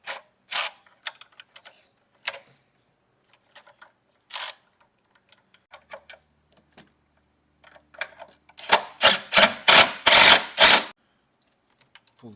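A ratchet with a 10 mm socket on a 2006 Jeep Liberty engine gives a close run of rapid, sharp clicking strokes, with scattered light metallic taps before it.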